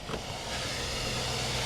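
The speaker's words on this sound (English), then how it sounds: "Oh yeah, she's running good." A Chevy truck engine runs steadily after starting, a close, even idle hum with broadband mechanical noise and no speech over it.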